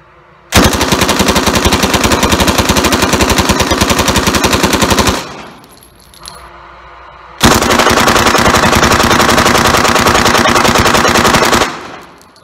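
A Thompson submachine gun fires in full auto: two long, loud, continuous bursts, each about four to five seconds, separated by a short lull.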